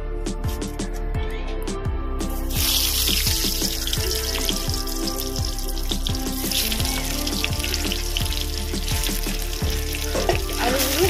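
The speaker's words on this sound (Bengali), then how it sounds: "এই তেলের মধ্যে এবার আলুগুলো দিয়ে দেব।" Potatoes drop into hot oil and fry loudly, a dense crackling sizzle that surges after a couple of seconds and holds steady, with a rhythmic mechanical ticking underneath and no talk.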